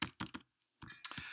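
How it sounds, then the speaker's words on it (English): Keystrokes on a computer keyboard during word-processor typing, arriving in two short bursts of close, crisp taps split by a brief silent pause. "we can start typing."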